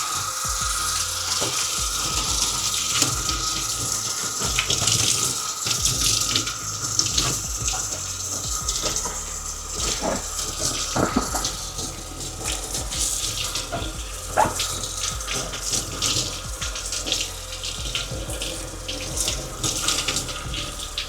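A water tap runs steadily into a sink to rinse something off, with splashing and rubbing as an item is held under the flow, close and continuous throughout.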